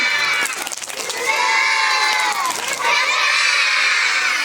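Schoolchildren at a school felicitation event cheer and shout together in a loud, lively burst of young voices.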